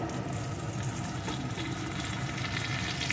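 Ginger garlic paste fries with chopped onions in a pan, a continuous close crackling sizzle with light stirring, no one talking.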